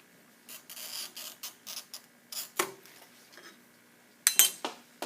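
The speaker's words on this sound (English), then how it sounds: "now I'm going to cut this extra glass off" A handheld glass cutter scores sheet glass in a series of short scratchy strokes during glass-cutting practice, ending in a sharp crisp snap and clink as the extra piece breaks off close by.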